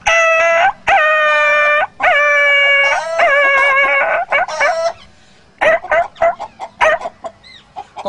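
A voice mimics a dog yelping after being struck with a stick, loud close tonal yelps in long sustained cries, then a run of shorter choppy yips with brief gaps between them.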